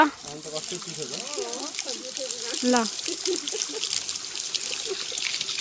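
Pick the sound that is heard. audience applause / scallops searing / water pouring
water pouring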